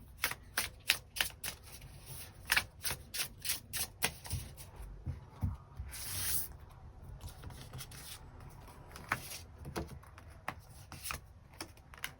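Tarot cards being shuffled and drawn during a reading, a rapid run of crisp, close paper slaps and flicks for several seconds, then sparser card snaps and soft handling noises, with no talking.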